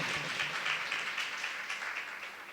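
A church congregation claps together for a couple of seconds, a dense, moderately distant patter of many hands that holds steady and then slowly thins.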